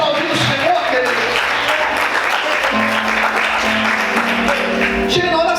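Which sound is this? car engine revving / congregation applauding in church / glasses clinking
congregation applauding in church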